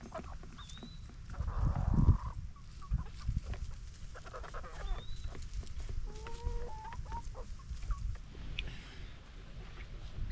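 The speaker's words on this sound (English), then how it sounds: "So look at those chickens." Chickens in a hoop coop cluck and murmur close by, pecking at an empty water drinker. Soft tapping and scuffling run beneath scattered clucks and a few brief higher calls.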